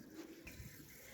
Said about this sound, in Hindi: थोड़ी बहुत पानी की आवाज़ है